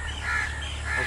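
Greater coucal, or crow pheasant, raiding a nest in garden reeds by a pond, gives two harsh, rasping calls close by, with no one talking.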